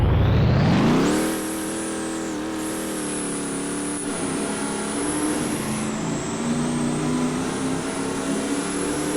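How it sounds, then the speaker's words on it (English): A 1960s Dodge Charger engine in a video game revs hard, then settles into a sustained high-pitched roar at steady speed, loud and close, with no talk. "Anyway, it's an evil looking car with an evil sound."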